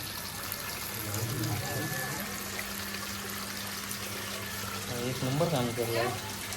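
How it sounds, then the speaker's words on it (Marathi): Water runs steadily in a continuous wash while people talk over it. "याचं पाणी येतो"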